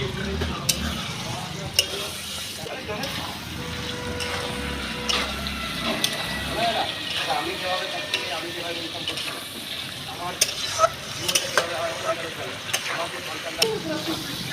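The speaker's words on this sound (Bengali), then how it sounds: "দাও ভালো করে কষাও।" Chicken curry with tomatoes and a splash of hot water sautéing in a pan, with an ongoing sizzle and irregular stirring scrapes and knocks, while people talk throughout.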